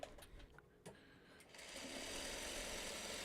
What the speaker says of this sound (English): let me just get through this seam.